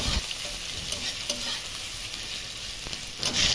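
Whole spices temper in hot oil in a pan for a crab curry, a steady close sizzle and crackle with a few faint stirring clinks and no talking.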